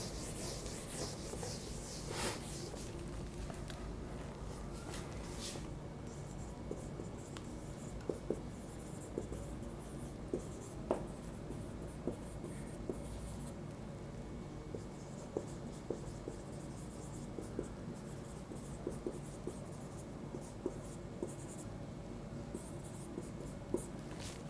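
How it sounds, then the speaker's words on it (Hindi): A long stretch of writing on a board in a genetics lesson: continuous scratchy strokes with occasional sharp taps, close and steady, with no talking over it. "इसको मैं थोड़ा सा अच्छे से लिख देता हूं"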